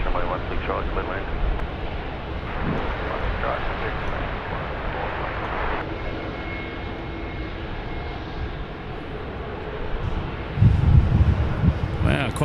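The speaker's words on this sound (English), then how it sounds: "Qantas 63, the Boeing 787-9 going to Joburg" A Qantas Boeing 787-9 departs Sydney Airport bound for Johannesburg, a broad steady jet roar that holds for many seconds and swells louder near the end, with wind buffeting and a voice talking over it.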